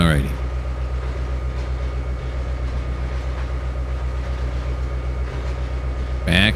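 A diesel train in the Trainz 2022 railroad simulator rolls through a rail yard, a steady loud engine drone and rumbling wheels holding constant throughout, with brief squeals at the start and end and talk faintly underneath.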